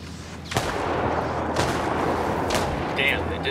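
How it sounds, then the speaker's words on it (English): Rebel indirect artillery fire called in during Ghost Recon Wildlands: several heavy booming impacts spaced about a second apart over a continuous rumbling battlefield background, fairly loud, with no voices. "I called the rebels for some indirect fire."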